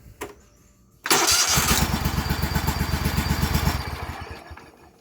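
A lawn mower engine is cranked by a Denso high-torque starter. A brief click comes first, then a loud burst as the engine catches, settling into a rapid, even chugging idle for a few seconds before fading down near the end.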